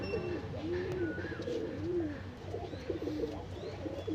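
Domestic pigeons cooing nearby in soft, repeated rolling coos over several seconds, fairly quiet against a low background hum, with no spoken voice.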